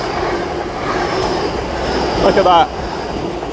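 A train passes close by on the seafront line at Dawlish, Devon, a steady rumbling roar with a brief metallic wheel squeal near the end, and a person speaks briefly over it.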